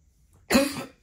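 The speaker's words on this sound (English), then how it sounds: "that's that ridiculous cough that I was telling you guys about" A single sharp, close cough from a person, sudden and brief, followed by a short trailing rasp in an otherwise quiet room.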